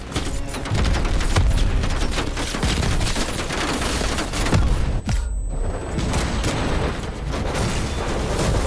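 Rapid booming gunfire and explosive launches from a grenade launcher in the shooter game Call of Duty: Black Ops Cold War, a dense, loud barrage of bangs with a short lull partway through.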